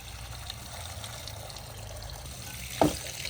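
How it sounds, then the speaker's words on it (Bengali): Spinach leaves are rinsed under running water from a tap in a village kitchen, giving a steady soft rush of flowing water with a brief louder splash near the end. "আমাদের পালং শাক ধোয়া দিয়ে চলছে।"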